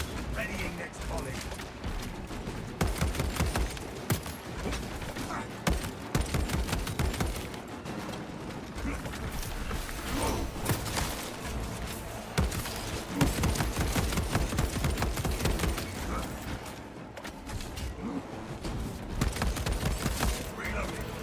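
Rapid volleys of gunfire from a space siege video game crackle continuously, dense bursts layered with mechanical clatter and game voice lines throughout.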